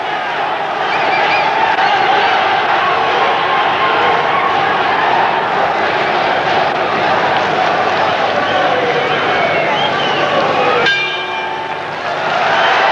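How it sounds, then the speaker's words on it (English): A boxing crowd at a 1982 bout applauds and roars steadily through an opening round, a dense, loud wash of cheering that holds throughout, with a bell ringing near the end. "despite the applause he's getting from the crowd in that opening round"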